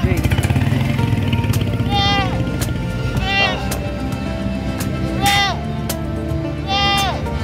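Goats bleat four times at a steady pace at the San Carlos livestock market, moderately close, under people talking and a steady mechanical rumble.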